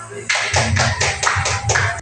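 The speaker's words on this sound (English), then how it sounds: "let us give everyone a big round of applause" A class of students clapping together after a teaching demonstration activity, a dense burst of hand claps lasting about two seconds, fairly loud and close, starting abruptly.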